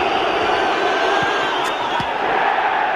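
A football stadium crowd at Millwall roars and applauds after a goal, a dense, steady wall of distant cheering throughout.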